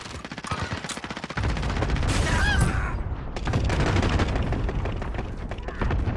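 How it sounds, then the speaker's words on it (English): Gunfire and a cluster strike in the shooter Call of Duty Warzone: a rapid rattle of shots, then a heavy, continuous roll of overlapping blasts and booms that stays loud to the end. "Enemy cluster strike."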